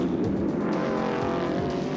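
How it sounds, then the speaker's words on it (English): A Chevy 6-litre race car engine, mid-mounted and making about 700 horsepower, roars steadily and loudly at a sports sedan meeting at Oran Park, as a dense continuous drone with no pauses. "We've got a mid-mounted Chevy 6-litre next to me. She's pulling around 700 horsepower and about 550 foot-pounds of torque."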